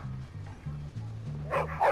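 A small dog barks in two quick yappy bursts near the end, close and loud over a steady pulsing low music beat.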